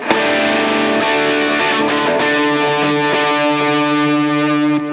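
An electric guitar through a Line 6 POD Go set to a gain tone, sustained overdriven chords with a gritty edge and slight echo, steady and loud throughout, with no voices.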